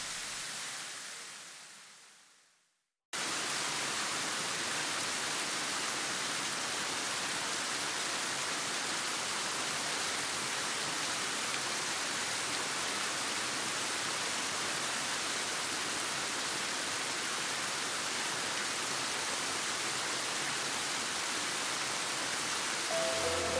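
Goraikō Falls on the upper Niyodo River pours steadily, a dense, loud, even roar of falling water that starts abruptly after a brief fading sound and continues unbroken with no voices.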